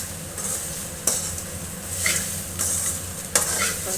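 Masala is stirred into hot oil in a pan for an egg and capsicum breakfast dish, a steady soft sizzle broken by several sharp spoon scrapes and clinks against the pan.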